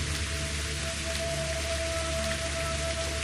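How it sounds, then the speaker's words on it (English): Steady, dense rain falls throughout a scene in the video game Better Late Than Dead, a constant hiss of raindrops on surfaces with a faint low tonal hum underneath and no talk. "how about this rain stops as well?"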